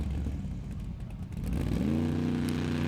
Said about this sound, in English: Engine did not sound healthy there